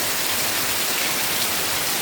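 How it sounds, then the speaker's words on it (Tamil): Heavy rain pouring down on a farm, a dense, steady hiss of downpour drumming on surfaces with no breaks, loud and close throughout. "எங்கள் ஊரில் இன்றைக்கி சரியான மழை, பாருங்க எப்படி பெய்யுதுன்னு சொல்லி."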